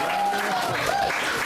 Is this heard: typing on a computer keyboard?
no